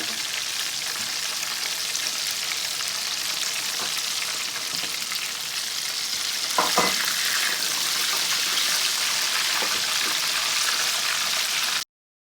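Frozen chapli kebabs frying in a pan: a steady, dense sizzle that holds at an even level throughout, with a few faint clinks in the middle, no talking.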